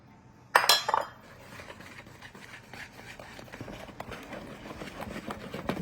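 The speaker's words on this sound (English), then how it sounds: "we'll throw them in here and whisk it all together" Ingredients whisked together in a bowl, starting with a sharp clatter and then a steady run of rapid light clinks and taps, close and unbroken.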